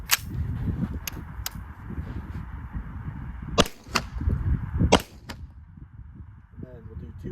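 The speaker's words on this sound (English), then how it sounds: "we'll do a couple shots, subs and supers unsuppressed" Unsuppressed rifle firing supersonic rounds: several sharp, dry cracks spread across the clip, two close together near the middle, standing out over steady outdoor background noise.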